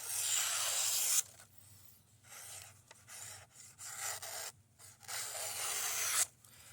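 A Craftsman pocket knife slicing through office paper, giving several close, raspy scraping strokes separated by short pauses.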